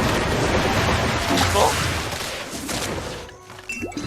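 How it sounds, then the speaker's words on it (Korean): Skill attacks fired in the Black Desert Mobile game, a dense, continuous wash of crashing, gunfire-like combat effects layered together, loud and steady, with a voice talking over it. "일단 대충 이렇게 스킬을 하나씩 쏘고 있습니다"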